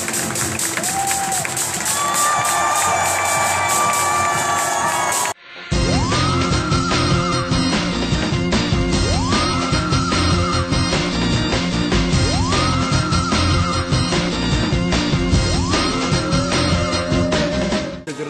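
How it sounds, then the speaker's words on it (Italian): Loud party crowd cheering and clapping at an evening event, sustained and dense, with music and shouts mixed in; rising whoops repeat every few seconds after a brief pause. "Un applauso al campione mondiale di FIFA"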